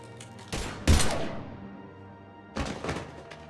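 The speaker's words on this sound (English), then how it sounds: "Now open fire!" Gunfire in the video game Mass Effect 3 comes as two sharp, heavy bursts close together, then a fading tail, with another shot a couple of seconds later over a low background hum.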